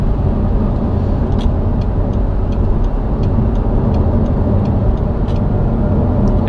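An Audi R8 supercar heard from inside while driving gives a steady, loud, low rumble of engine and road noise that stays level throughout.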